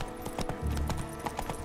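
Roach the horse walks in The Witcher 3, her hooves clip-clopping in a steady close rhythm over faint background ambience.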